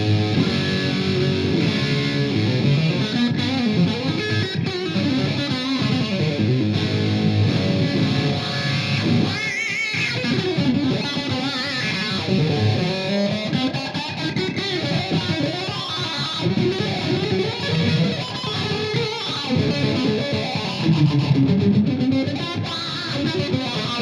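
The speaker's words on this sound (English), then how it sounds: "I can simply engage the distortion circuit and add distortion on top of that." Electric guitar played through a Morley Lynch Keiko wah pedal with its distortion circuit engaged, a loud, sustained, saturated tone with sweeping wah and chords and notes ringing continuously for about twenty-four seconds.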